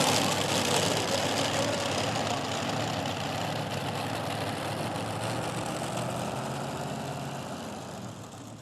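Modified pulling tractor idling at a 1996 tractor pull in Chapel Hill, Tennessee: a loud, low, steady engine rumble with a rough knocking texture, easing slightly toward the end, no talk over it.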